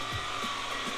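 A Craftsman 20V cordless vacuum runs with its agitator on, giving a steady, whining motor hum with a whirring brush roll and a few soft brushing sweeps over the surface.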